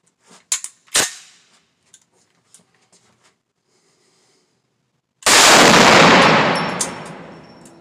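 Desert Eagle .50 AE pistol firing several loud, sharp gunshots in the first second, followed by quiet handling clicks and then a long burst of loud broadband noise.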